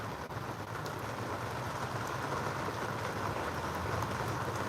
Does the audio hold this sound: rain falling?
yes